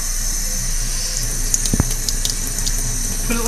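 Water runs steadily from a tap, a constant close, hissing flow that stays even throughout, with a few faint clicks and knocks over it and no talk.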